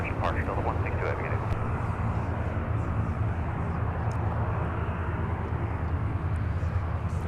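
An Airbus A330neo departs from Minneapolis–Saint Paul airport as a dense, steady roar of engine noise holds throughout, with faint voices and radio chatter mixed in near the start.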